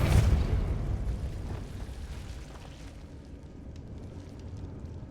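The Depulso spell cast in Hogwarts Legacy, heard as a loud, broad whooshing blast that bursts at once and then trails off into a dull rumbling decay, with no voices.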